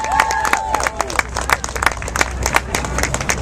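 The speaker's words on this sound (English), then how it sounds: "Can we get a round of applause for Pamela Rice" An outdoor crowd claps for Pamela Rice at New York's Veggie Pride Parade, loud, dense and uneven clapping with sharp individual claps near the mic, some cheering and a voice speaking briefly at the start.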